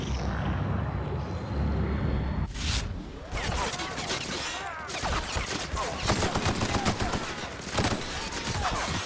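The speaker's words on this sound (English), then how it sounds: "Oh, who are they shooting at?" Enemies fire guns in the video game The Outer Worlds, a dense run of shots and bursts heard close and loud over several seconds, with game noise around them.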